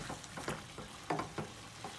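Shrimp fra diavolo sauce with pasta stirred in a pan, quiet rhythmic scrapes and soft sizzling repeating every fraction of a second.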